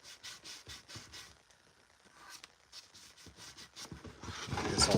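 Rhythmic strokes of sanding over Bondo glazing spot putty on a 3D-printed trooper armor piece, close and fairly soft, pausing briefly midway before picking up again with louder rubbing.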